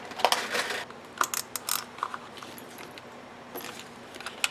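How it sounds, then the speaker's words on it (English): A tape runner lays adhesive onto paper in a papercraft project, giving short, close, crackly clicking bursts separated by quiet gaps. "I'm just going to use a tape runner,"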